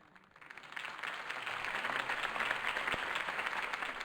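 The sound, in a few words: applause for a campaign speech in Batman Telltale video game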